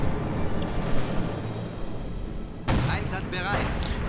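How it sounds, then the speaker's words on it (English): An incendiary artillery barrage thunders in a World War II real-time strategy game. Dull booming impacts rumble, and a sharp, louder blast lands near the end. A commentator talks over much of it. "calling in incendiary artillery to prevent the Stug from being repaired anytime soon"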